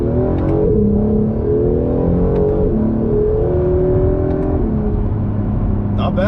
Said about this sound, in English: It sounds so good for being a V6.